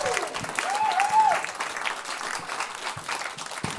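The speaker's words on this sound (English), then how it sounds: "Round of applause for everybody you've seen tonight." Comedy club audience applauding at the close of a showcase set, a dense, sustained wash of clapping that stays loud throughout with some cheering mixed in.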